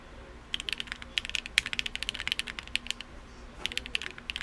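Typing on a TKD PT.1 mechanical keyboard, a close, quick run of crisp clacky keystrokes in irregular bursts with a short pause near the end.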